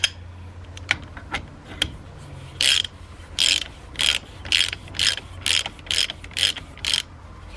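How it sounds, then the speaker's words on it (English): Hand ratchet wrench driving an MXR tube expander into aluminum pipe gives a few scattered clicks, then a steady run of about nine loud, evenly spaced ratcheting bursts close up. "actually I'm gonna try with a hand wrench first instead of the impact"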